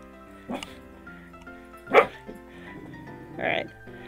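A dog barks downstairs in a home, three separate muffled barks with gaps between them, heard at a moderate distance.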